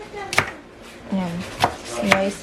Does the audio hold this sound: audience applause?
no